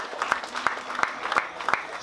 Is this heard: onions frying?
no